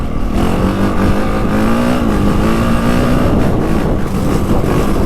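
A 2025 Honda CRF450R Works Edition motocross bike ridden on a grass track roars loud and close, its engine note rising and falling as the throttle works, with no talking.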